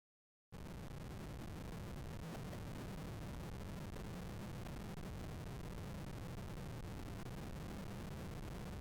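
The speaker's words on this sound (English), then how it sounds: "my handheld scanner picked up a burst of static, then silence, then a frequency" Harsh, unbroken static hiss from a handheld scanner starts abruptly after a brief silence and continues at a steady level with a faint rumbling undertone.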